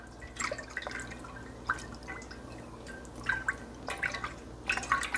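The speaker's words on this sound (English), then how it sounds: "And my white vinegar. And I'm just going to give that a good stir." White vinegar stirred into a homemade cheese brine with calcium chloride, giving soft wet drips and small liquid clinks in quiet, close bursts with no talking.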